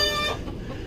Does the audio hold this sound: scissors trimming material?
no